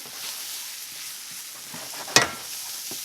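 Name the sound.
flour and fat cooking into a roux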